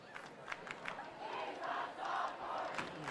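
A high school football crowd at a South Carroll versus Westminster game chants in waves, a distant rhythmic roar of many voices mixed with sharp shouts.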